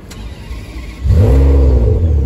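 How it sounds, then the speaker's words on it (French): A powerful Ferrari 599 engine cranks and roars to life, then settles into a loud, deep idle with a slight rev, very close. "Engine Start."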